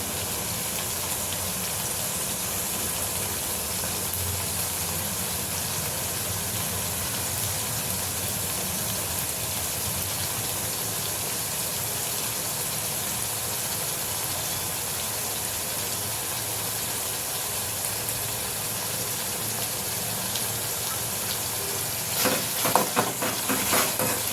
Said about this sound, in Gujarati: ચડવા દઈશું ટમેટાને